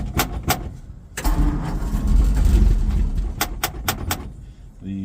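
A 1952 Ford F4 truck that has sat unrun for three years, with a universal ignition switch wired to the starter and a seized choke: two short clicks, then several seconds of cranking that catch into a rough idle, followed by sharp clicks.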